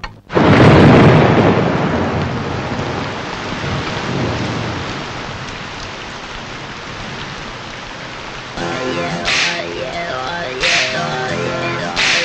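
Heavy rain pours steadily in a film scene, opening with a loud crash of thunder that fades into a dense, constant downpour, with music rising over the rain near the end.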